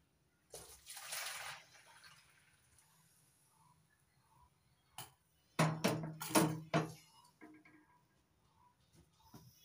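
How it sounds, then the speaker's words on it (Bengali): Hot water is poured into a pot of cooking dal, a faint splashing burst that returns as louder, brief gurgling pours against a quiet kitchen background. "এবার আমি কিছুটা গরম জল আমি ঢেলে রাখবো।"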